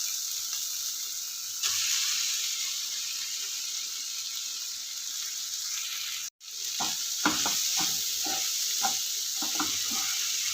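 Schezwan fried rice being stirred in a frying pan, a constant close sizzle with rhythmic scraping and clinking of a spatula in the second half, no talking.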